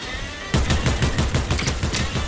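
Rapid automatic gunfire from a weapon in the video game Fortnite, a loud close burst of evenly spaced shots that starts abruptly and keeps going for about two seconds.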